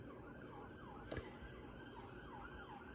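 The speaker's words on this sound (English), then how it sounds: "The ambulance is coming this way, isn't it?" An ambulance siren passes outside, its faint wailing rise and fall repeating steadily at a distance, with a brief sharp noise partway through and no talking.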